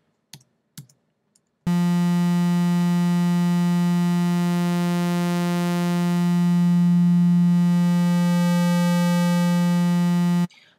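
An ES2 software synthesizer's oscillators blend sine, square and sawtooth waves into one steady, buzzy, harmonically rich tone. It holds loud and alone for about nine seconds, its timbre shifting slightly, after a few faint clicks.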